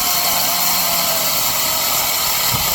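A Handwise 6-inch battery-powered mini chainsaw runs steadily, a loud continuous whining motor drone without a break and no voices over it.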